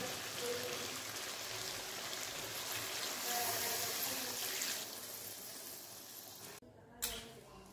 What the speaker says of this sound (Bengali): মাংসে জল দিয়ে দিয়েছি।